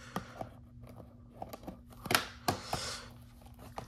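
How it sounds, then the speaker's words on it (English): A 2022 Topps Heritage High Number blaster box being opened by hand: sharp cardboard tearing and scraping bursts, several separate rips and clicks close to the microphone, quiet in between. "This box is hard to open"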